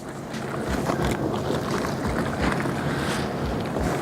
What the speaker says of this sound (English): Gonna rinse our mitt back out again.